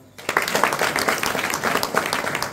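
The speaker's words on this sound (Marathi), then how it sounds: "वाजवा टाळ्या." An audience at a Marathi speech event bursts into applause, a dense burst of many hands clapping steadily for a couple of seconds after a brief quiet start.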